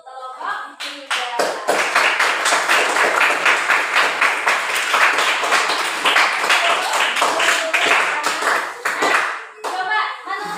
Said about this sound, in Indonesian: coba tepuk tangan dulu untuk kelompok 3